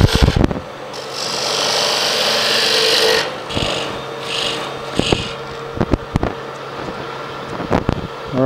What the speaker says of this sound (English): now I'm going to take a parting tool